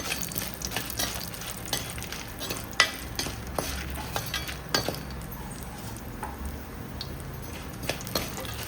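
Around six dry red chillies roast in a pan for a sundakkai thuvaiyal, with a soft dry crackle broken by irregular scraping and clinking taps as they are stirred. No voices are heard.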